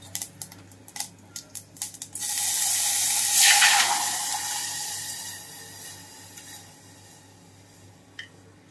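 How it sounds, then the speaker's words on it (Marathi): Cumin seeds spluttering in hot oil give a run of sharp, close pops and crackles, then a loud, steady sizzle takes over when peanut paste is added, gradually fading to a soft hiss. "जिरं चांगलं तडतडायला लागलेलं आहे."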